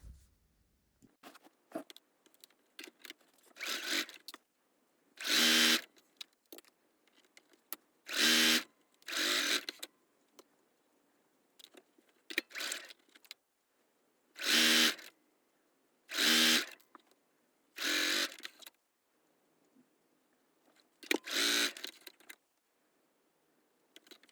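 A home sewing machine stitching fabric, likely a stay stitch along a garment edge, runs in short, loud bursts of a few seconds each, with quiet pauses and soft handling noises in between.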